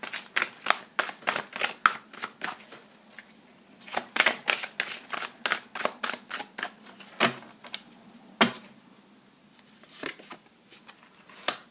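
Tarot cards are drawn and handled, a quick series of crisp, close card snaps and slaps in irregular bursts, fairly quiet with no talking.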